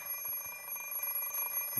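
An alarm clock in the Fate/stay night video game rings with a steady, high, faint electronic tone held throughout, alone with no talk.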